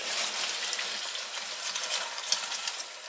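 Spice mixture with a little flour sizzles and crackles steadily in a hot pan as it is stirred, a continuous hissing fry with small scraping clicks.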